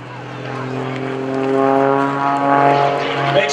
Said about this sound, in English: this airplane is very capable of world-class aerobatics